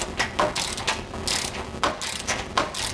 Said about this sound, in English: It's just a 15 millimeter socket to take that off.